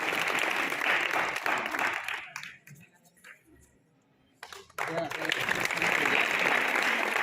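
Audience applause at a higher secondary school's annual function in Panautha, Chhatarpur, loud and sustained, dipping to a quieter stretch with faint talk midway before full clapping resumes.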